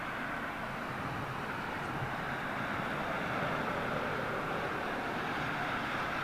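A DHL Boeing 757 arrives on runway 27L at London Heathrow, its engines a continuous broad roar of steady loudness throughout, heard from a distance with no voices.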